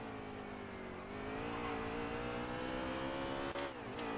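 The Alliance Truck Parts stock car in NASCAR Heat 3 races through a turn at Sonoma. Its engine drones loud and steady with a harmonic whine that holds, then briefly dips and rises again as the car lifts off the throttle and accelerates.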